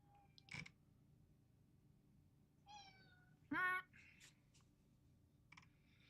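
A cat meows in several short calls spread across a quiet room, with a louder, sharper cry near the middle and softer mews before and after, no talk.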